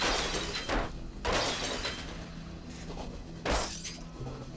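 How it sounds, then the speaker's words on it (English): A car is smashed in the video game Bully, with repeated crashing impacts and the shatter of breaking glass arriving in several loud bursts over a steady background din. "Smash the car up as much as you can."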